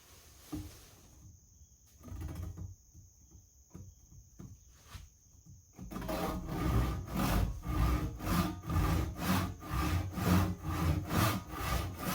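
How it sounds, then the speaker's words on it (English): A small crosscut hand saw cuts a wooden board with rhythmic back-and-forth strokes, light and sparse at first, then a steady run of loud, even rasping strokes close by, over a constant high insect-like chirp. "Using my nice little crosscut saw here, I'll separate the workpiece from the rest of the board."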